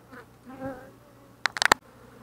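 Honeybees buzz at a queenless hive during an inspection, a soft close hum that swells briefly before a quick burst of sharp clicks and knocks from handling the hive.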